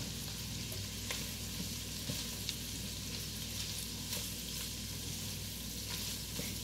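Basic smoked sausage sizzles in a pan while jambalaya cooks, a steady soft frying hiss with faint crackles, close and quiet, no voices.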